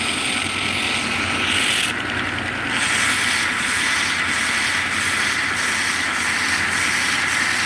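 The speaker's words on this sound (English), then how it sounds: "with each belt, as we refine that finish on that handle, even before we've oiled it, you can start to see the grain come out" Belt grinder sanding wooden knife handles, a loud, steady abrasive roar with a continuous motor drone, close and uninterrupted throughout.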